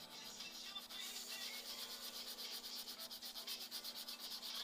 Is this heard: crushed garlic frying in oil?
no